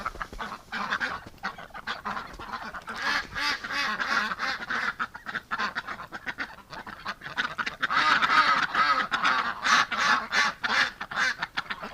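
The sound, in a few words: ducks quacking in a barn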